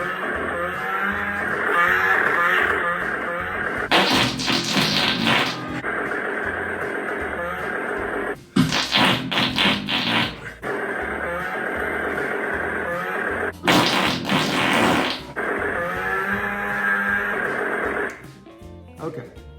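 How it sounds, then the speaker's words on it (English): A battery-powered Syndicate Collectibles Army of Darkness toy chainsaw plays its loud electronic engine sound: a sustained, rumbling idle-like drone broken by three harsher revving bursts, close and continuous. "it kind of sounds like a chainsaw, but it sounds like somebody's sitting in a diesel truck while it's idling"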